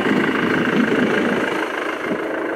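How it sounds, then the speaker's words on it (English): A small engine or generator runs steadily to recharge batteries at a bush campsite near Guyra, a continuous low mechanical drone close by with no talk over it. "This might get noisy because I've got my motor going. The engine, because I'm recharging batteries."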